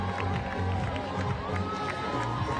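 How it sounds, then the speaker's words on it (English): A home soccer crowd in Tampa, Florida roaring after an equalizing goal, a dense sustained wall of cheering and shouts from a large stadium audience, with a commentator speaking over it. "And the home crowd is absolutely electric."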